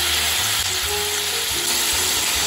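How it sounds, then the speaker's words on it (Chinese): Teochew soft beancurd dusted with corn flour fries in oil over high heat, giving a dense, steady sizzle close up with no pauses. "我们现在来炸这个软豆腐哈。"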